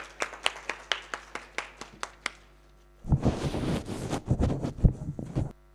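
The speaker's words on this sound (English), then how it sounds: "Can we give Dr. Francis another round of applause as he approaches the stage?" An audience at a National Science Week 2021 event in Mafikeng claps, starting with a few separate close claps and then swelling into a dense, fuller round of applause from many hands.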